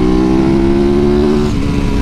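A 450cc Yamaha YZ450FX supermoto engine revs loud and close in a sustained buzzing drone that sags slightly in pitch near the end, with no talking.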